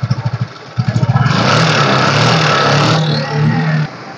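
A used 2015 vehicle's engine turning over with rapid pulsing, then catching and running loudly close by in a steady roar that eases slightly near the end.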